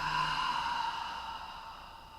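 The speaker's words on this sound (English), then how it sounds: "deep breath out." A long, deep exhale during a yin yoga breathing exercise, one soft breathy out-breath that gradually fades over about two seconds, close and quiet with no talk.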